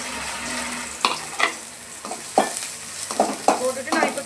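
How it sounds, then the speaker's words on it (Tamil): Onion and green chilli fry in oil with spluttered mustard seeds for pori upma, a steady close sizzle broken by several sharp scraping strokes of a spatula, with no voices. "கடுகு பொரிஞ்சதும் ஆனியனும் பச்சை மிளகாவையும் போட்டுருவோம்"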